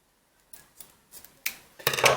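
Scissors snip excess macrame cord at the end of a zig zag bead bracelet, giving four or five crisp close cuts that come quicker and louder toward the end in an otherwise quiet room.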